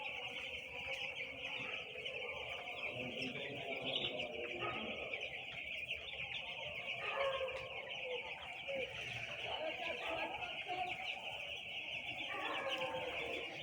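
A flock of chickens on a broiler poultry farm keeps up a continuous chorus of soft clucks and chirps. It sounds faint and a little distant.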